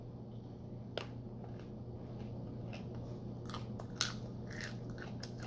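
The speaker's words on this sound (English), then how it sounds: "if you chew it, it like makes like a popping noise" Faint crackling pops and crunchy snaps of cotton-candy-flavored popping candy scattered irregularly over quiet chewing, close up, with a low steady hum underneath.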